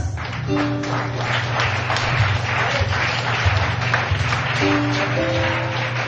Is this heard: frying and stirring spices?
no